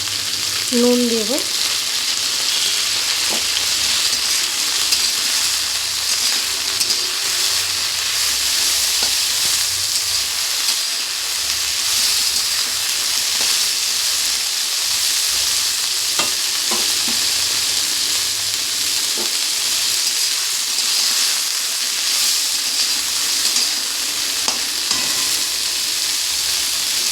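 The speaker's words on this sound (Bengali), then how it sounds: "এই ব্রকলিগুলোকে আমি হালকা করে ভেজে নেব, একদম হালকা।" Broccoli sizzling in hot oil in a wok, a dense unbroken frying hiss held at close range throughout, punctuated by irregular clicks and scrapes of stirring.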